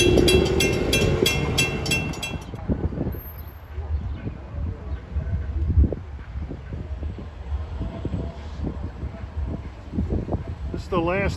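A Port Jefferson Branch commuter train rumbles in close by, a broad low roar with squealing wheels near the start and a rising screech at the end; voices murmur underneath.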